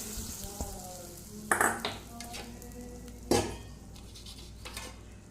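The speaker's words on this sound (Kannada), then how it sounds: "ಈಗ ಒಂದು ಒಗ್ಗರಣೆಯನ್ನು ಹಾಕ್ತೇನೆ" Hot oil tempering with mustard seeds and asafoetida for a black-eyed pea curry crackles in a pan close by, with bright metal utensil clinks and scrapes punctuating the sizzle.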